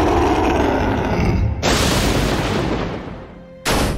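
Magic Dragon attack in the video game Manamon 2, fought against catacomb bosses: a loud, dense booming blast that holds for about a second and a half, then a sharper crashing burst that slowly fades before another hit starts.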